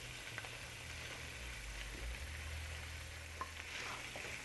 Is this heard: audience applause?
no